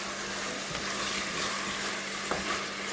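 A spiced mixture stir-fried in a wok in a home kitchen gives a loud, steady sizzle that runs throughout, with a few brief scrapes of stirring and no voices.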